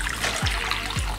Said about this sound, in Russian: Наливаем литр воды